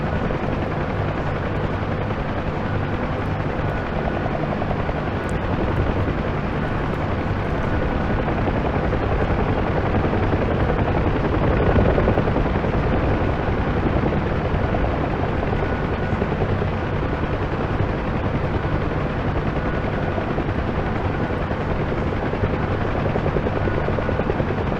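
A UH-1 Huey helicopter in the DCS flight simulator, its steady rotor thrum and engine roar droning on without pause, loud and constant throughout.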